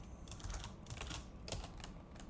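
Quick clusters of keystrokes on a computer keyboard while writing Node.js TypeScript code, close and fairly quiet with uneven rhythm and short pauses between bursts.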